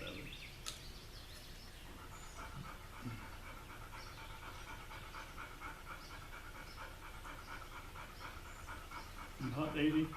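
A dog pants steadily and quietly at close range through the whole stretch, rhythmic breaths over a faint background, while someone works on a lawn tractor.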